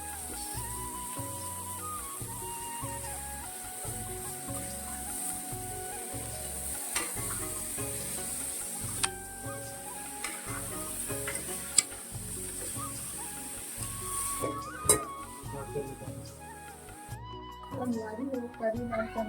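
Garlic and onion frying in a pan for a curry, a steady sizzle with occasional stirring clatter running throughout at close range, with some background speech mixed in.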